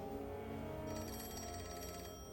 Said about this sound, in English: Want to get the phone?